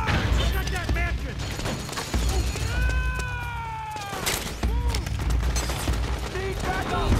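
Dense, loud gunfire from the video game Metal Gear Solid 4 fills the whole stretch, with overlapping rapid bursts and shots. Voices shout over the firefight throughout.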